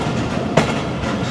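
A Pakistan Railways train arrives at Hafizabad station, a loud steady rumble of rolling wheels with a single sharp clack of rail joints.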